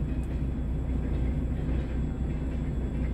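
Freight train rolling past a railway level crossing in Moscow Oblast, a steady loud low rumble of wagons continuing throughout without any distinct clicks or talk.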